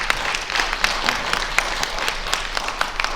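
Steady applause from a live audience at a county prosecutor campaign event, dense clapping running evenly throughout at moderate loudness with no talk over it.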